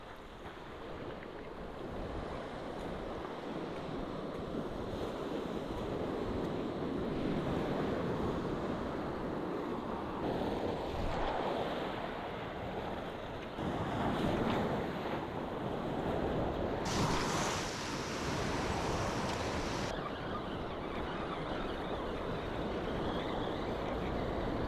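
Ocean surf breaking along a rocky shoreline near Crescent City, a steady broad wash of waves with swelling surges and gusts of wind noise over the microphone, no talk.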